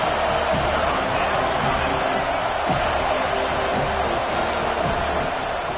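Stadium crowd in a college football video game roars steadily through a big third-down defensive stand, a dense wall of cheering with occasional thuds and claps mixed in.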